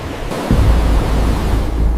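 Ocean surf on a jungle-fringed shore rolls in as a broad, loud wash of noise, swelling after a brief quieter start and continuing steadily, with no voices.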